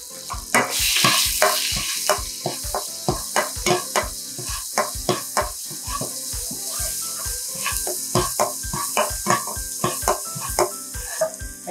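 Doubanjiang, garlic and ginger stir-fried in oil in a pan, with a steady sizzle and a rapid, regular scraping rhythm of a spatula stirring, close and continuous.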